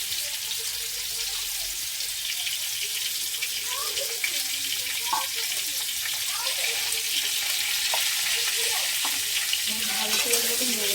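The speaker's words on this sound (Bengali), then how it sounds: "ভালো করে এটাকে নেড়ে নেব।" Potato pieces with turmeric frying in a pan, a steady broadband sizzle running throughout with scattered soft scrapes and knocks as they are stirred.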